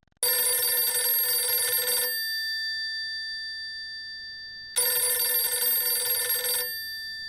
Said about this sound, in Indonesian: Henry kaget karena telepon di rumah Barjo berbunyi dan tidak rusak